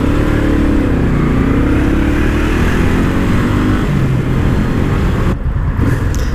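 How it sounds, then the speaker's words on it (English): A motorcycle engine revs steadily and loud in heavy Southern California traffic, a continuous droning roar with rising and falling pitch sweeps, briefly dipping near the end. "Revving my quiet ass bike."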